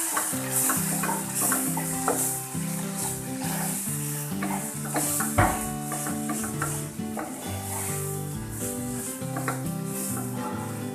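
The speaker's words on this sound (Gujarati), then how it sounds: "હવે આ મસાલાને આપણે ઘી બહાર આવે ત્યાં સુધી ચડવા દઈશું." Roasted besan with red chilli and coriander-cumin powder frying in ghee as a spiced masala is stirred, a steady soft sizzle with scraping stir strokes against the pan and one sharp clink midway.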